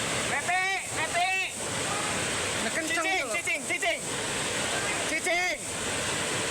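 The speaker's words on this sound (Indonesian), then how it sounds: "Terjangan arus deras melanda Kampung Cibayoni, Desa Kertajaya, Sumur Pandeglang, Banten." A strong, rushing river current of flood water roars continuously at a village in Sumur, Pandeglang, Banten, with several voices calling out over the steady torrent.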